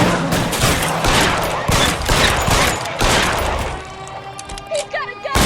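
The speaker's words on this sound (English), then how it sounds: "Fire a warning round." Rapid gunfire in the video game L.A. Noire, a dense burst of overlapping shots for about four seconds, then a few scattered louder cracks as the shooting thins out.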